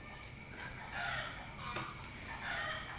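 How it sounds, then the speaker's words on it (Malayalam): A rooster crows at a distance in a rural yard just after rain, its call rising twice over a steady background hiss, with no talk. "കോഴി കടന്ന് കരയുന്നുണ്ട്."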